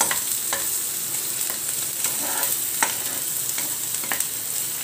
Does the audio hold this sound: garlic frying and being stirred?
yes